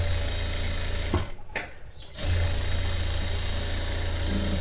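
A sewing machine runs steadily while stitching a flat seam on a cross-neck designer blouse, a continuous close whirring broken by one brief pause of about a second before it resumes.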